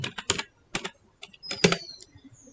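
Code being typed on a computer keyboard: irregular bursts of crisp, close key clicks with short pauses between groups of strokes, fairly quiet, no talking.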